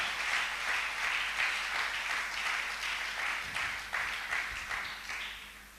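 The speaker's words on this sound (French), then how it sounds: "Non, acclamons beaucoup plus fort que ça." Congregation in a church breaking into sustained applause, dense steady clapping from many hands filling the room for several seconds, loud and continuous without speech on top.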